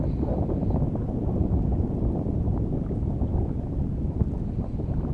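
Steady wind rushes over a Potter 15 sailboat on a lake, with a constant low buffeting roar and the gusty rumble of wind on the microphone throughout.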